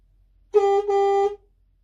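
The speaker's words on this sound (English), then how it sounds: "for the normal horn that's on a Scania," Two quick, loud horn beeps from a model Scania truck's standard horn run almost together, a bright steady tone with no other sound around it.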